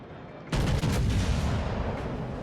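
British battleships in World of Warships let loose a heavy naval gun salvo, a sudden loud booming blast followed by rolling, rumbling echoes that slowly fade.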